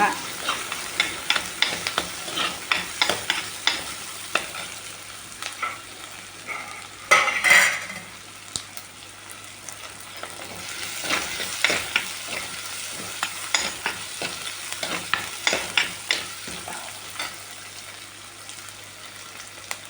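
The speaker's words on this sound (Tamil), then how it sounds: "வெங்காயம் வதங்கட்டும்." Onions sauté in a pan with green chillies for a Tamil mutton kulambu: a steady close sizzle runs throughout, broken by frequent scraping and clattering strokes of a spoon stirring against the pan.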